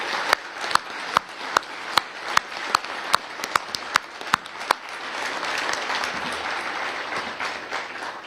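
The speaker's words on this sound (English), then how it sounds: "give yourselves a round of applause because you are the ones who are going to make this happen" Audience applause at a groundbreaking ceremony for the San Luis, Arizona land port of entry expansion: a broad, steady wash of many hands clapping, with a few sharper near claps standing out early, sustained at moderate loudness throughout.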